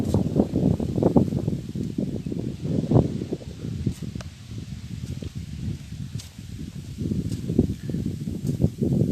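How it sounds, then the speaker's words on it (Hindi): Wind gusting through an ashram courtyard near an old hut and cow shelter, a steady low rushing roar with leaf rustle and crackle throughout, fairly loud and continuous with no speech. "थोड़ी हवा चल रही है।"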